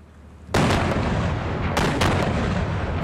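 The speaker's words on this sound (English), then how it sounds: "they're now re-zeroing the mortars to drop the rounds on top of that bunker." Mortar rounds and gunfire in Afghanistan: a heavy blast hits and rolls into sustained, echoing rumble, with further sharp reports partway through, loud and close.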